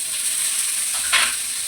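Tomatoes hit a pan of hot onion and ginger-garlic paste with a steady hiss and a brief louder sizzle burst, close and alone.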